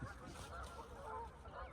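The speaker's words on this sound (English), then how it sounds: "There's a bunch of ducks going off down there." Ducks calling at a distance below an early-morning hillside on Little Round Top, a faint cluster of honking quacks over outdoor background noise.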